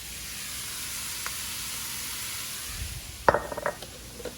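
Asparagus, garlic, chilies and ramp whites sizzle steadily in a hot pan, a constant close frying hiss that ends with a few sharp utensil clinks as stirring begins.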